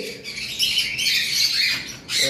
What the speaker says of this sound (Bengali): আমাদের কাছে অ্যালবিনো লাভবার্ড রয়েছে একটা পেয়ার।